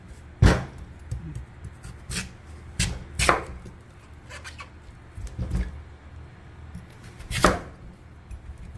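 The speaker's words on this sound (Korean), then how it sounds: "지금 채칼로 채를 쳐서 한번 해볼게요" Irregular scraping swipes of a vegetable slicer through firm radish, a handful of sharp rasping strokes separated by pauses, close and fairly quiet.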